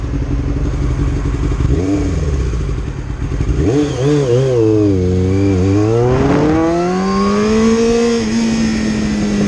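A motorcycle lane splitting through California traffic on its first ride of the year, its engine loud and close throughout with repeated rising and falling revs and gear changes over a steady rumble.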